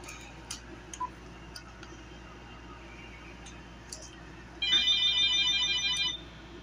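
A Uniden TRU348 cordless telephone rings with a bright electronic trill in one sustained burst of about a second and a half near the end, after a quiet room with a few faint clicks and ticks.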